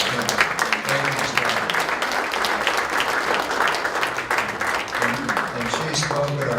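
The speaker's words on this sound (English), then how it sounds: "she deserves a real round of applause for her service to our country" Audience at an El Cajon city council meeting gives sustained, dense applause that fills the whole stretch at steady loudness, with voices faintly mixed in.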